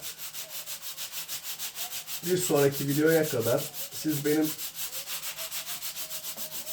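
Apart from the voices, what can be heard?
sanding the puttied hull of a wooden ship model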